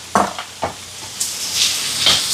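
Onion with mustard seeds, fennel, curry leaves, green chilies and tamarind sautéing in a pan: a soft sizzle under a few quick spatula scrapes and clinks, close by.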